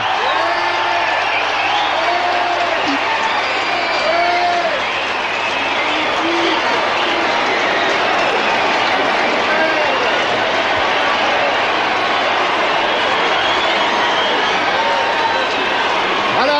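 A large outdoor crowd cheers and calls out during the total solar eclipse of 11 August 1999, a broad continuous roar of voices with scattered whoops and shouts rising and falling, with some speech mixed in.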